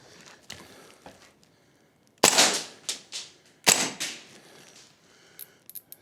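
A Vorsk VMP2 gas blowback airsoft rifle fires a few sharp, loud cracking shots, some single and some in quick pairs, with short gaps and quieter handling clicks between them.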